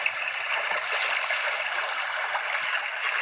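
A steady babbling brook, water rushing and gurgling continuously at an even level, with no voices.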